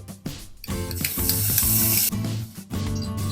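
Two spoons of ghee hit a hot pan before rice flour is fried for feerni, giving a close sizzling hiss that swells, drops out briefly, then returns.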